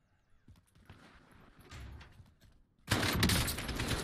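An AK assault rifle fires in Call of Duty Warzone, with a sudden loud burst of rapid automatic gunfire in the final second after quieter game noise.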